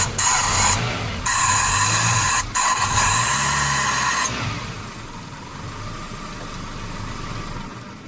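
A 2001 Toyota Camry engine sits close by with a loud, buzzy idle. It is broken by a few brief drops before settling into a quieter, smooth, steady idle for the second half.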